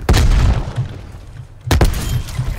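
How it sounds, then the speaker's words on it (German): Two heavy grenade blasts from Call of Duty Black Ops Cold War multiplayer, one at the start and another about a second and a half later, each a loud booming burst that rumbles away. "Werfe Granate."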